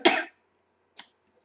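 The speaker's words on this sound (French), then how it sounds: "je tousse, c'est génial" A single throaty cough burst from a woman with a sore, congested throat, close and loud, followed by a fainter short second cough and then near silence.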